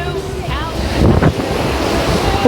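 Sea waves surge and wash onto the sand at Pattaya Beach, a steady broadband roar with a swell of louder surf midway, mixed with wind buffeting the microphone and faint background voices.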